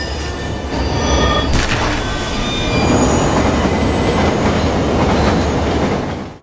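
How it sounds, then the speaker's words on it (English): A train pulling into a station, a loud steady rumble of wheels on rails with high squealing brake tones and rhythmic clatter, continuing close and dominant throughout. "The train was arriving."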